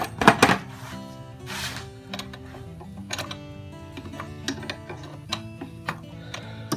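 A wrench works on a motor mount bolt of a Nissan Altima, giving light metallic clicks and ratcheting ticks in an irregular series, close and fairly quiet, with a few sharper clanks near the start.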